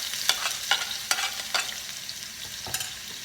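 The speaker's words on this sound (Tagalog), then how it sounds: "habang ginigisa yung bawang" Garlic sautéing in a pan at the start of ginisang upo with shrimp: a steady, close sizzling hiss broken by several sharp spatula scrapes and clicks, with no talking.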